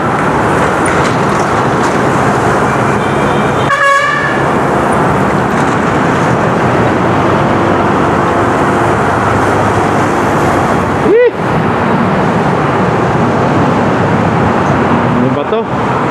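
Dense road traffic with cars and large vehicles rumbling steadily up close, a tonal horn blast rising out of the roar near the start and another brief honk later.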